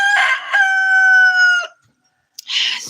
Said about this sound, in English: this rooster needs to quiet.